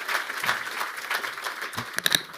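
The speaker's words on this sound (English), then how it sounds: "A huge round of applause, please, for Pāti Taua, Paul Whānau." Audience applause at a conference, steady dense clapping from many hands filling the room, with a few sharper claps near the end.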